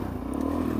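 A Suzuki DRZ400SM motorcycle engine runs in a brief, close, steady idle with a low throbbing hum and light mechanical clatter, no talking.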